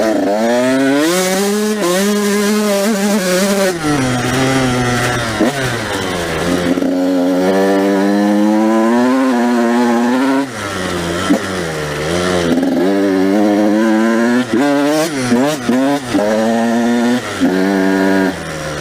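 A 2017 KTM 85 SX big-wheel two-stroke dirt bike engine revs hard and loud, climbing and falling repeatedly with sharp throttle blips, close and continuous.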